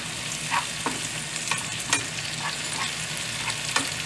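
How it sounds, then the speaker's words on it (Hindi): Onions, ginger and garlic fry in a pan with a steady soft sizzle, broken by occasional scrapes and stirring clicks, close by and fairly quiet with no voices. "थोड़ा सा इसको तलना है।"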